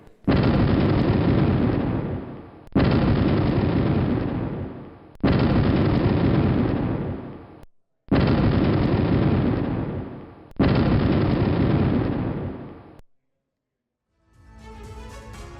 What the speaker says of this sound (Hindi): खेरसॉन में क्रूज मिसाइल हमले का वीडियो सामने आया है।